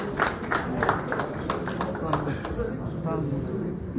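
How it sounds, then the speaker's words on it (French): An audience claps scattered, irregular applause for someone making an entrance, with sharp hand claps heard under a loud voice talking. "Applaudissez Blaise Boula qui vient de faire son entrée."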